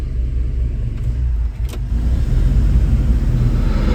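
A 1987 Chevrolet Silverado pickup's engine runs steadily up close, a loud low rumble that swells slightly partway through, with a faint metallic jingle near the middle.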